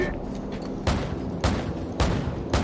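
AC-130 gunship cannon fire in the video game Call of Duty 4: four heavy, evenly spaced booming shots over a continuous rumbling battle background, with no talk.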